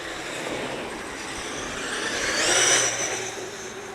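A Traxxas X-Maxx RC truck fitted with a Tekin RX8 Gen2 motor drives outdoors near houses, giving a steady electric motor whine and rolling noise that swells into a louder, higher whine near the end.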